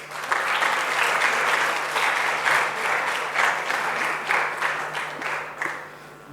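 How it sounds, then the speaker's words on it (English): Sustained audience applause at a ladies' study group event in Kolkata, steady dense clapping from a full room for about six seconds, tapering slightly toward the end with no voices. "Please join me in welcoming Mr. Haigreev Khaitan and Ms. Bijal Ajinkya with a huge round of applause."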